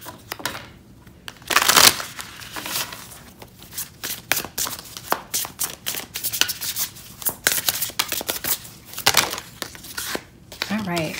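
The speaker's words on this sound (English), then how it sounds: "now let's get some tarot cards to see what else we get." A deck of tarot cards shuffled by hand, giving dense papery riffles and crinkly flutters that swell in a few louder bursts, close to the mic, with a speaking voice faintly present.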